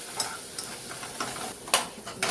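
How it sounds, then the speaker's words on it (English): Breadcrumbs and shredded Parmesan being stirred in a pan over medium heat, a soft continuous sizzle broken by several light scraping strokes and clinks of a utensil, close and without speech. "You're going to add 1/3 cup of breadcrumbs and 1/4 cup of shredded Parmesan cheese. Mix that in."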